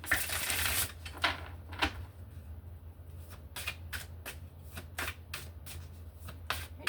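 An Earthly Souls and Spirits Oracle card deck is shuffled close by: a quick riffle at the start, then a steady run of crisp card slaps and snaps with no voices.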